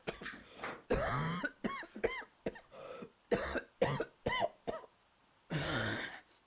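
A performer voices a raspy coughing fit for a Portuguese-language anime dub parody: a close, loud burst of roughly ten harsh, throaty coughs spread over six seconds, with no speech.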